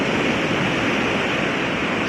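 Sea waves wash onto the shore under a nearly full moon, a broad steady roar of surf close by, continuous and even with no voices.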